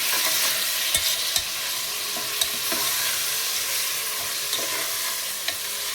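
Onions and sliced tomatoes frying in a pan, a bright dense sizzle held steady for several seconds, with a few light clicks of stirring, close up and without speech.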